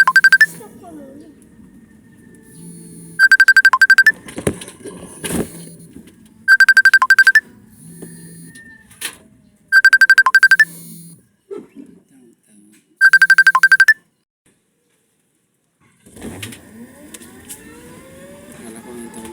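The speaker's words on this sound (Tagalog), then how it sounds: "Sagutin mo. Tawagan mo dyan, sis." A phone ringtone rings out in several loud, evenly spaced bursts while riding an e-bike, with people talking in between and road and motor noise underneath.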